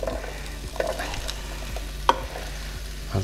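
Vegetables (peppers, chili and spring onions) sizzle with chorizo in a Tefal ActiFry, with a steady frying hiss, regular scraping stir strokes and one sharp clack, heard close.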